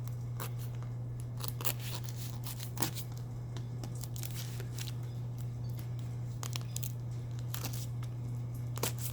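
Packing tape is cut and torn while a box holding a 1 million subscriber gold play button award is unboxed, with repeated sharp snips and rips over a steady low hum, close and without talk.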